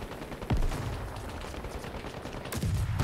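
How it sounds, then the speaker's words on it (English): Frag grenades going off in the Call to Arms video game, two heavy booming blasts about two seconds apart, the second near the end, over a constant din of battle and gunfire. "Get a couple of frags out."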